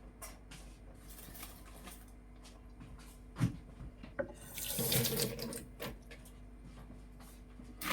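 Sprite soda poured into a glass, a close running, gurgling liquid stream that swells to a louder splashing rush midway, with a few knocks around it and no talk.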